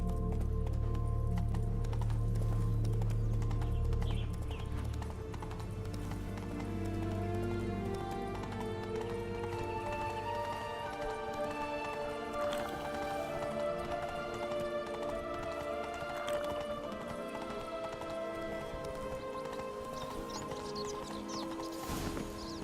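Hooves of a horse galloping in The Witcher 3 video game, a fast clip-clop rhythm under game ambience and music that settles into lighter, ongoing hoofbeats.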